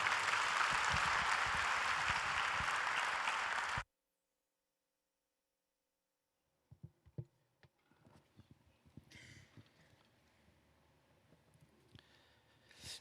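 A church congregation applauds loudly and densely for about four seconds before cutting off into silence, followed by scattered faint knocks and rustles.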